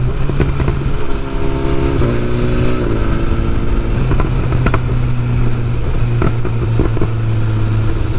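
A 2022 BMW S1000R motorcycle fitted with race exhaust headers roars loudly and close throughout. The engine note rises and falls as the bike accelerates and shifts, with sharp crackles in between and no voices.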